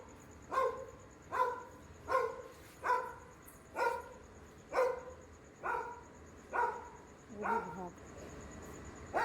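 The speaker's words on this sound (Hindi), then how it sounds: "वो जो गैलरी में अभी भौंक रहा था, फीमेल डॉग भौंक रही थी" A female dog barks from a gallery in a home, about nine evenly spaced barks roughly one per second, moderately distant and clear, with a faint steady high tone running underneath.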